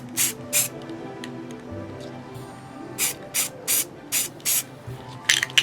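Short bursts from a spray paint can as sanded screws stuck in cardboard are painted: two hissing sprays, a pause, then a run of five evenly spaced hisses and a final quick spurt, close and crisp over faint room noise.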